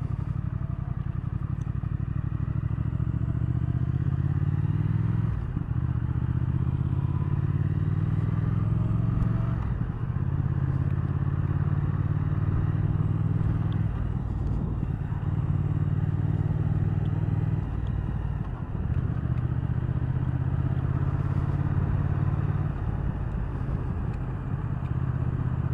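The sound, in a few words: 2019 Triumph Thruxton R 1200 motorcycle engine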